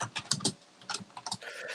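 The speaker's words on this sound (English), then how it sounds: "As you hear Adam furiously typing away." Fast, furious typing on a computer keyboard in bursts of irregular clicks, moderately close and fairly quiet, with short pauses between flurries.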